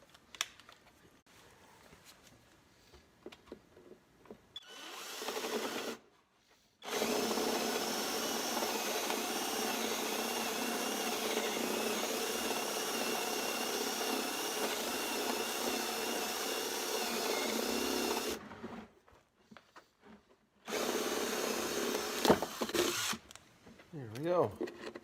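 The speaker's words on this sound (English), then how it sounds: "So I'm going to use a 1-inch Forester bit." A drill turns a 1-inch Forstner bit into wood while a swarm trap is built, a steady whining grind lasting about twelve seconds, then a shorter second burst, with quiet handling noises around it.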